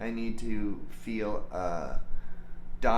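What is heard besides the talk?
No distinct noise like a dog, phone or traffic.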